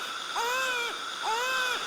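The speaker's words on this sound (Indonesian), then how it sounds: "Sorry, mendengar suara bayi?" A baby cries in two rising, wavering wails heard in a hospital, fairly loud and close, with no talking.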